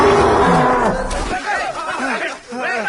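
A cow moos loudly and close, one long low call at the start, followed by several shorter bellowing moos mixed with excited voices of villagers chattering.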